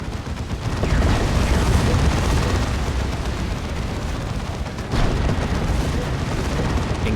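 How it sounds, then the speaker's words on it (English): Autocannon fire in the Warhammer 40,000 game Dawn of War 2: loud, dense booming barrages and explosions roll on continuously, with a fresh heavy burst partway through. "Autocannons chip in with some damage"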